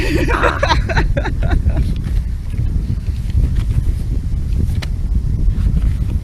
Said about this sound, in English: it's the wind. I need the wind to stop.